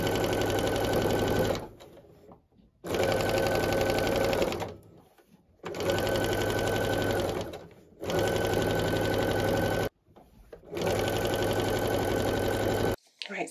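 A sewing machine stitching white strips onto quilt blocks runs in four long, loud, rapid whirring bursts, close by, separated by short quiet pauses.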